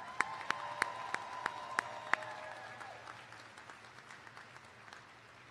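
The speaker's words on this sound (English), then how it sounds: "let's take a moment to applaud the tremendous accomplishments of the class of 2022" Audience applause at a 2022 commencement ceremony for the graduating class, a steady wash of many hands clapping at a moderate distance, with a few louder individual claps near the start.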